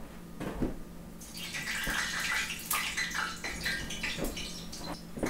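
Hot frying grease for fried green tomatoes breaks into a steady, bright sizzling hiss after a quiet start, with small pops and crackles throughout.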